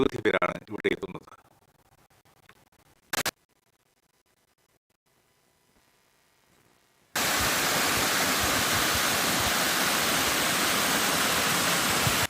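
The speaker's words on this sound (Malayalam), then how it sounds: "ഭംഗിയുള്ള വെള്ളച്ചാട്ടവും ആഴം കുറഞ്ഞ തടാകങ്ങളുമാണ് ഇവിടുത്തെ പ്രത്യേകത" At the Kadangode Mallankuzhi stream waterfall in Thrissur district during the monsoon, a brief stretch of talk and near-silence gives way to a loud, steady roar of rushing water that continues to the end.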